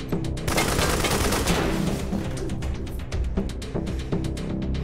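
Gunfire in Wasteland 3 rattles off as a rapid burst of shots, followed by scattered sharper reports and clicks against a constant low rumble.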